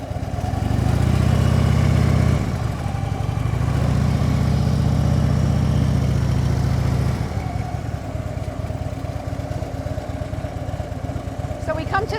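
A motorcycle makes a slow, upright U-turn during a low-speed riding exercise, its engine droning nearby at low revs and swelling slightly before settling to a steady idle-like rumble.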